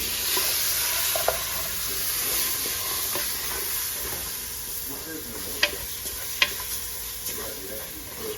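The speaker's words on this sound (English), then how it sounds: "Now we're gonna add our veggies to it." Chopped vegetables go into a golden-brown gumbo roux and sizzle steadily in the pot while being stirred, with a few sharp clinks of the spoon against the pot.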